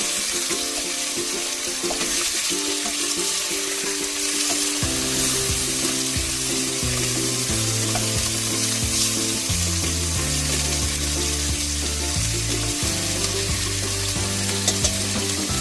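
Beef short ribs sear in a hot pan with a steady, loud sizzle and frying crackle, while musical tones run underneath throughout.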